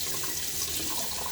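Tap water runs steadily through a stainless steel Timeless .68 open-comb safety razor held close under the faucet, giving a continuous splashing hiss.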